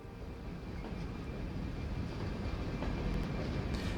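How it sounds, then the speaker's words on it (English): A train in the city-building game Cities Skylines rumbles past, a steady low rolling drone that swells slightly toward the end, with no talk over it. "there's another train kind of coming down here at the same time"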